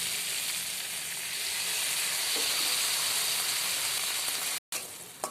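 Water poured into hot spices with salt and turmeric in a pan, a loud continuous sizzle and hiss that steams on for several seconds before cutting off abruptly near the end.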